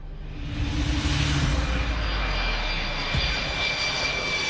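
An airplane flies past with a loud, steady engine roar that swells and then holds, a continuous broad rush with a faint whine, with no voices.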